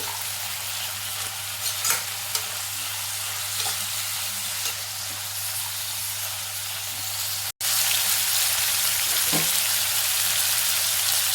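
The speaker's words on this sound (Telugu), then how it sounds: "మగ్గనిద్దామండి, వేయించుదాము ఈ నెయ్యి ఆయిల్లోనే" Fenugreek leaves frying in ghee and oil make a continuous close sizzle and hiss, with a brief cut partway through before the frying resumes slightly louder.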